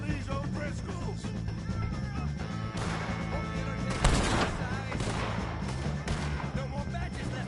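Gunfire in the Western video game Red Dead Redemption 2 during a shootout with O'Driscoll gang members, with scattered shots and one sharp louder blast over a dense game soundscape and background voices.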